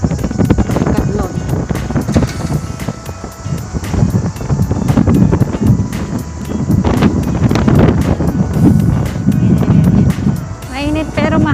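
Strong gusty wind buffeting the microphone outdoors on a hot, windy day while walking, loud continuous rumbling thumps.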